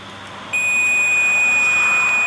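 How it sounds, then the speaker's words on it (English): An AC Hotstick voltage detector sounds its low-battery warning, a loud, steady high-pitched electronic beep that starts abruptly and holds constant, alone over faint background hiss. "the unit emits a constant warning beep, alerting you to change the batteries"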